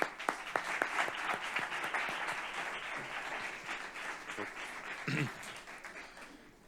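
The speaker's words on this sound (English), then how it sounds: "big applause for them" Conference audience at a pediatric innovation day applauds a research team, a steady wash of many hands clapping that slowly fades, with a brief voice near the end.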